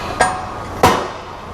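Two sharp metallic clanks about half a second apart as a steel subframe part for a 1973 Ford F100 truck is dropped into place, ringing briefly in a quiet workshop.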